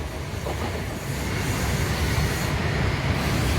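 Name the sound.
train passing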